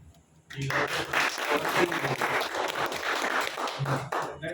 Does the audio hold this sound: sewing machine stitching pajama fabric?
no